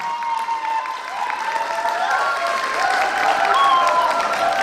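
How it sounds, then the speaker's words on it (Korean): An audience at the 6th national smile and kindness award ceremony cheers and applauds after a winner is announced, a dense sustained burst of clapping with raised voices over it. "발표가 되니까 엄청난 환호를 보내시는군요"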